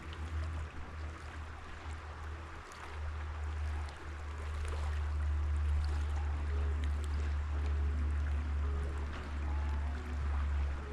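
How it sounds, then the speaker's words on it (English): Steady rushing of river water flowing past, a continuous broadband wash with a deep low rumble, close and fairly loud, no voices. "sound of the water"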